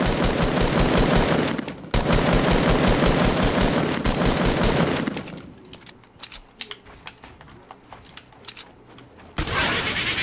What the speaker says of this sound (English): I'm getting shot from over there as well.